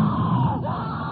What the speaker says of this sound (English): If I could find a sound effect of this blood-curdling female scream, I would use that in one of my future projects.